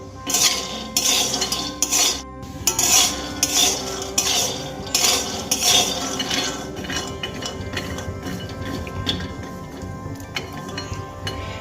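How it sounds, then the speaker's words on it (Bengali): Peanuts dry-roast in a pan over a medium-low gas flame while a utensil stirs them, giving close, repeated scraping and rattling clinks that are busier at first and then settle into a steadier rustle. "গ্যাসের ফ্লেম মিডিয়াম টু লোতে রেখে খুব ভালো করে অনেকক্ষণ সময় নিয়ে বাদামগুলোকে ভেজে"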